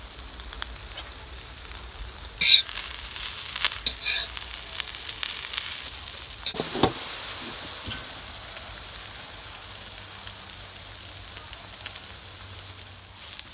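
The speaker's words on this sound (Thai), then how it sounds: "เราก็เจียวไฟอ่อนๆนะคะ ไม่ต้องไฟแรง" Cha-om acacia leaf omelette frying over low heat in a pan, a steady close sizzle with crackles and stirring clatter, louder bursts early on, then settling into a soft continuous hiss.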